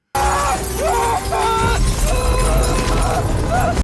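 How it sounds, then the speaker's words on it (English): Glass shatters during an earthquake aftershock in the disaster film San Andreas, crashing loudly amid rumbling debris and tonal film sound effects. "An aftershock hits and a shard of glass gets into Ben's leg"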